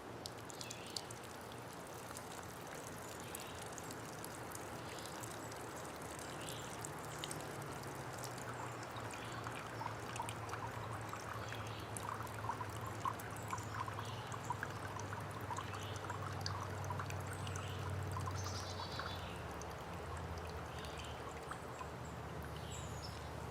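Water pours and trickles steadily into a metal cup outdoors at a campsite, a continuous splashing stream lasting well over twenty seconds at moderate loudness with no talking.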